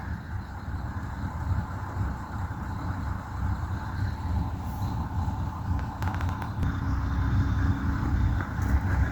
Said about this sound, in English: the trucks started, the trucks getting to line them up